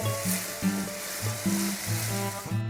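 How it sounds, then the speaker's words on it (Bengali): Onions frying in a pan with sugar and salt, a loud continuous sizzle with repeated rhythmic scraping of a utensil stirring through them, close and without any talk. "পেঁয়াজটা যতক্ষণ না কালার চেঞ্জ হয়ে যাচ্ছে নরম হয়ে যাচ্ছে ততক্ষণ আমাদের ভাজতে হবে"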